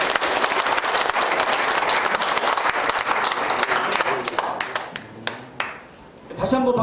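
An audience applauds at the completion ceremony for a livestock cooperative's new head office. Loud, dense clapping thins to scattered individual claps before a voice begins speaking.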